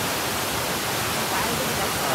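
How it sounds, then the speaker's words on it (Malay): Fast-flowing water rushes steadily as a broad, continuous hiss throughout, like a swift river or dam outflow near Empangan Klang Gates by Taman Melawati, Kuala Lumpur, heard close and fairly loud with no pauses. "Nampak air je deras lah."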